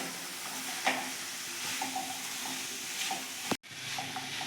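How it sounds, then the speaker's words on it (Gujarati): Cabbage and mixed vegetables for pulao sauté in a pan with a steady, close sizzle and occasional stirring scrapes, briefly cut off near the end before the frying sound resumes. "હવે આપણે કોબીસ નાખીશું આને હજી આપણે બે મિનિટ સાતડવા દઈશું"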